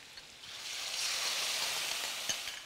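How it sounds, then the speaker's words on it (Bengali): Pineapple pieces fry in a pan for a sweet and sour sauce, a steady moderate sizzle swelling then easing, with a faint clink or two, close up and without talk. "একটু ভেজে দেবো যাতে পুরো সসটার মধ্যে একটা পাইনঅ্যাপেলের গন্ধ ছড়িয়ে যায়"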